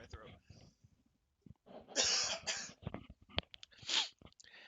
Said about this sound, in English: I gotta clear my throat.